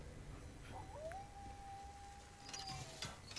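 A single long, steady dog howl in the video game Resident Evil 4 Remake rises and holds for about two seconds over a faint background hum, with brief crackly noises after it.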